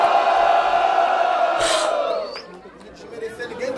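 Audience at a Brazilian rap battle shouts and cheers in a loud swell that fades toward the end, with scattered voices and whoops rising from the crowd.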